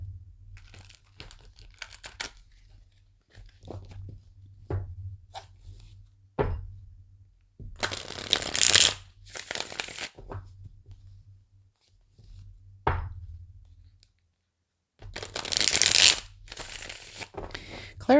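Tarot cards are handled and shuffled in bursts, soft riffling and crinkly flicks close by, separated by quiet pauses and small taps, with no speech over it.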